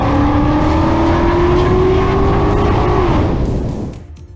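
A Mustang supercar in a police chase roars away, its engine note climbing steadily at close range for about three seconds before fading off into the distance.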